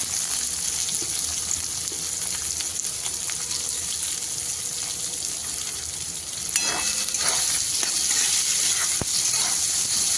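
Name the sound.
frying cumin seeds and chopped onion for egg curry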